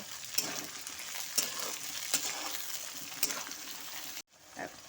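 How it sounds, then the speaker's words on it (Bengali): Chopped cabbage and other vegetables fry in a pan for cabbage fried rice, a soft continuous sizzle punctuated by periodic scraping stirs, briefly cutting out near the end before resuming. "এখন আমি সমস্ত কিছুই ভালো মতো করে একটু ভেজে নেব"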